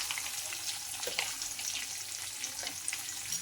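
Spices with turmeric powder and salt fry in oil in a pan while chiwda is made, giving a steady soft sizzle with faint light clinks, close and alone with no talking.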